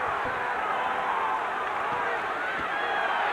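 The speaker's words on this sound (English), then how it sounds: "There is a guttural roar from this crowd wanting to see Gatti close the show" A boxing arena crowd roars for Arturo Gatti in a steady, dense wall of cheering that holds throughout, with a commentator speaking over it.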